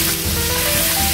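Chicken and vegetables browning in hot oil in a paella pan for a shellfish-free Paella Valenciana, a loud, dense, steady sizzle filling the short moment.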